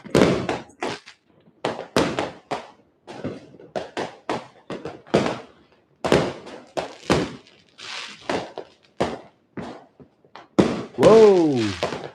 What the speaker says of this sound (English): More and more fireworks.